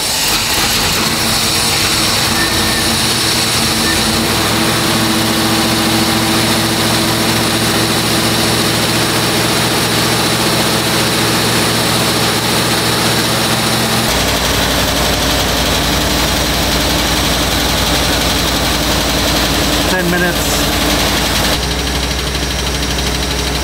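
A car engine with a flat tappet camshaft holds steady revs around 2,500 RPM during break-in, a loud continuous drone with a shift in pitch partway through and no talk.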